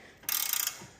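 A wrench ratchets on a nut on a Porsche Cayman 987 toe arm, giving a short, rapid burst of ratcheting clicks lasting under half a second, close and clear.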